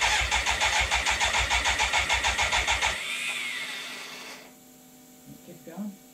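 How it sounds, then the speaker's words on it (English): A BMW K100 motorcycle's starter motor cranks in a loud, rapid, regular churning for about three seconds, then stops and leaves a fading whine, faint hum and a few soft knocks. "I think there might be something wrong with that starter motor."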